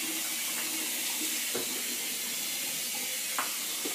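Hot water runs steadily from a tap, a constant close hiss with a couple of faint knocks and splashes beneath it.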